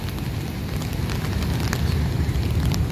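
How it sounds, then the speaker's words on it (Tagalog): Steady rain falls outdoors at a work site beside a newly opened Phase 1 park area, making an even, continuous hiss with no voices. "Tapos eto umuulan"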